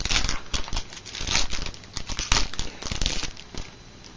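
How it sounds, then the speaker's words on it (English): Foil Magic: The Gathering booster packs from New Phyrexia being torn open and handled, a close, continuous crinkling and crackling with sharp rips, with no one talking. "And now I'm going to open the packs that I got."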